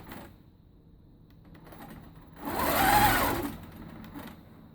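A longarm quilting machine stitches short half-inch lines in a quilt triangle, giving a rapid mechanical whirring that runs in short bursts and swells louder near the end, close and with no talk.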